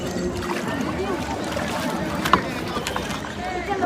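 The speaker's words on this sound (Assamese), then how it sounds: "নাও ষ্টাৰ্ট হৈ গ'ল আৰু পানীখিনি চাওক" A small boat, a three-person craft on the clear river at Dawki, gets under way with a steady low rumbling drone and lapping water, a sharp knock partway through, people talking over it.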